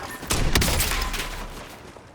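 Gunfire in Call of Duty Warzone on the Verdansk map: a dense, loud burst of rapid shots that swells quickly, then lingers and fades as a rumbling tail.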